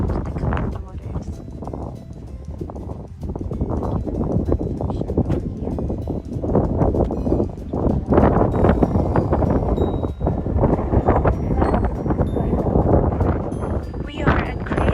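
Strong, steady wind at Crater Lake, Oregon, buffeting the microphone with a continuous low rumble and gusty surges, close and loud throughout.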